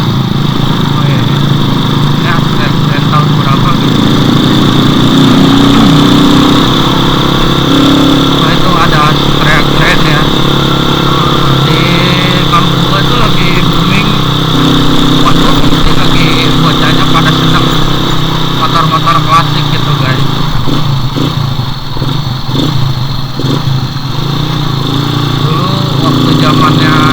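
A Honda Astrea motorcycle engine drones steadily on a slippery village road near Pasir Gombong, with people talking over the engine throughout.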